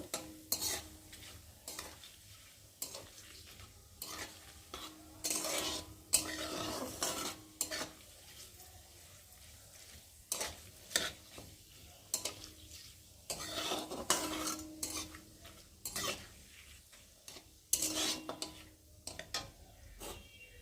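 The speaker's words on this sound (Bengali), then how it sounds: "একটু তেজপাতা, আর দেবো জিরে আর গরম মশলা, এলাচ লবঙ্গ দারচিনি, এগুলো দিয়ে একটু ভালো করে ভেজে নেব।" Bay leaf, cumin, cardamom, cloves and cinnamon fry in a pan while a spatula scrapes and clinks against the metal in repeated strokes over a soft sizzle, all fairly quiet and without speech.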